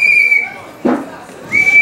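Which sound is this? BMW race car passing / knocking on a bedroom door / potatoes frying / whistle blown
whistle blown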